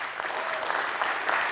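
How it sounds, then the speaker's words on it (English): A brief burst of steady audience applause in a conference hall after a talk on macOS deployment, dense clapping from a seated crowd. "that deserves a round of applause"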